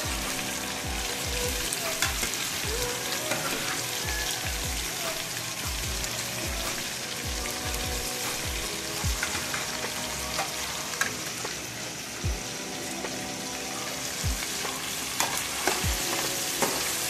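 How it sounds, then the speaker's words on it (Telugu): Chicken pieces fry in hot oil for a cooked chicken fry dish, giving a continuous loud sizzle and crackle with frequent pops and stirring clatter, and a faint voice now and then. "చికెన్ వేస్తున్నాం ఆయిల్లో"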